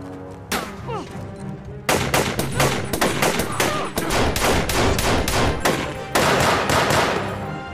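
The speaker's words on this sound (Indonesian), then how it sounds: "Dan baku tembak antar mereka pun tidak bisa lagi terelakkan." Rapid bursts of gunfire from the film Rogue Warfare crack out in clusters, loud and close, with shots overlapping in dense volleys after a brief quieter stretch at the start.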